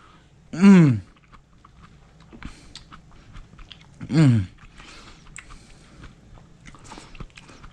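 Someone bites into a piece of grilled pineapple, giving two short, loud crunchy bites close to the mic a few seconds apart, with quiet mouth and chewing noises between them.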